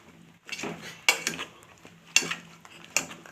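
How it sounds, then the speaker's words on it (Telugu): A spoon scrapes and clanks against a pan while brinjal masala curry is mixed, with four or five distinct metallic stirring bursts spaced about a second apart, close and clear. "ఇలా మొత్తం వేసేసిన తర్వాత మొత్తం బాగా దగ్గరగా కలిపేసుకుందాం"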